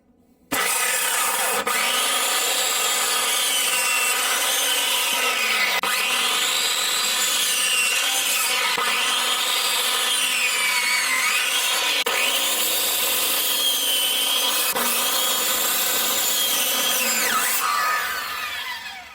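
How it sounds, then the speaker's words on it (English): A heavy 50-year-old circular saw runs loud and continuous through wood, its whine rising and dipping in repeated cutting strokes before winding down at the end. "I think that the circular saw is working really nice"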